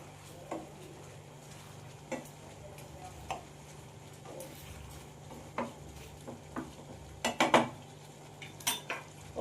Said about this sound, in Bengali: আবারও আমি ভালো করে নাড়াচাড়া করে নেব